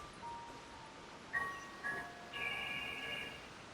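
A quiet phone charging notification plays as a few soft electronic tones, a brief higher chime, then a sustained bright tone, all faint against a low background with no talk.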